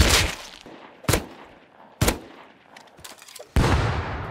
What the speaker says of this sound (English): They're literally throwing grenades.